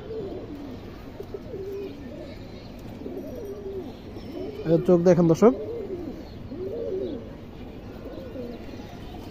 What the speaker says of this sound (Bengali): দেখেন সিলভার বেজি কবুতর